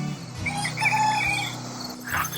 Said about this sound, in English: a bunch of the chickens that we hatched earlier this year turned out to be roosters